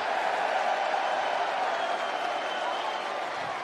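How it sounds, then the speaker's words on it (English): A crowd at a UFC event cheers steadily throughout, a dense, continuous roar with a faint clapping texture that holds at an even level, with no distinct voice standing out. "While everybody's cheering and so happy"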